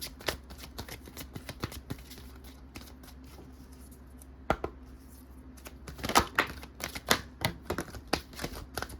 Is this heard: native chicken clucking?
no